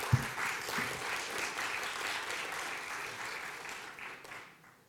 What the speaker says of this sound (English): Another round of applause for Dr. Emmons, ladies and gentlemen.